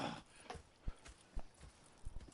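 Horses' hooves clip-clop in Red Dead Redemption 2, a few soft, irregular thuds spaced apart, faint and fairly close, with no talk over them.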